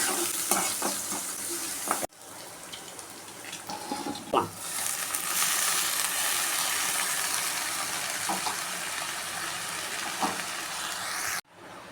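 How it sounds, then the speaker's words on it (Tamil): Chopped shallots frying with mustard seeds and red chilli for a drumstick-leaf stir-fry, loud continuous sizzle with stirring clatter, briefly cut by a pause near the start. "ஒரு பத்து சின்ன வெங்காயம் கட் பண்ணி வச்சுருக்கேன் இதையும் போட்டுக்கலாம்"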